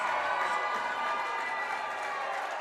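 Home crowd at a junior varsity hockey game stirred up during a loss, a steady broad roar of voices and cheering filling the arena.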